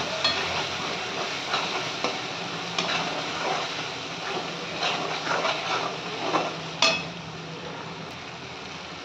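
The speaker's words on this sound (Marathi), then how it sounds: "आणि मस्त असा आता त्याला कलर येईपर्यंत आपल्याला परतून घ्यायचा आहे" Ground masala frying in hot oil in a kadhai for a soybean dish, a steady close sizzle with occasional scraping stirs and spoon clinks, no one speaking.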